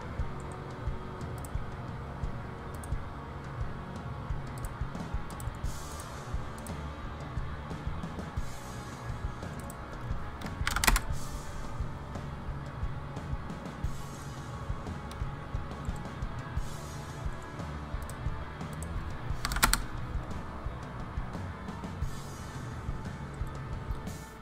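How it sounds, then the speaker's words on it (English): Quiet, irregular typing of numbers on a computer keyboard, soft clicks running steadily over about twenty seconds with a couple of louder thumps, close and low in level. "I'm still here, typing numbers away."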